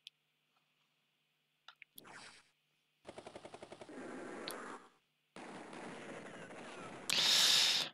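Rockets and a helicopter attack a tank in the Advance Wars strategy game, heard as rapid stuttering machine-gun bursts and blasts in separate short volleys, ending in a loud bright explosion.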